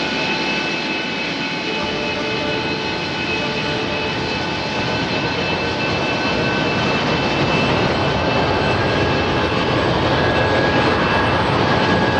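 A steady, loud roar of aircraft engines during takeoff in a movie scene, continuous and building slightly, with a high whine running over the broad rumble.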